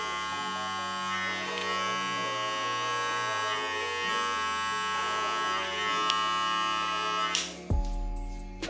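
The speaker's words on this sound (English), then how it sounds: "We're just gonna come back with the same trimmers that we put it in with" Electric hair trimmers buzz steadily while shaving a head, a close, even electric hum with slight shifts as the blades move across the scalp, ending in a brief clatter as the trimmer is set down.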